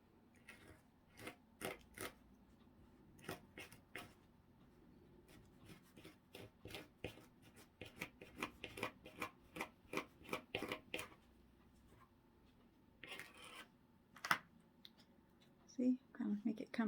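Scissors snip repeatedly through material while shaping a leprechaun gnome, giving quick crisp cuts in irregular bursts, close and fairly quiet, with rustling handling noise between them.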